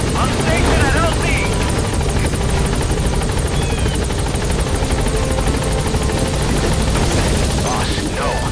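Pequod helicopter arriving over a landing zone in Metal Gear Solid V, with a steady, loud rotor chop and engine drone throughout, under game voices and an ambient bed.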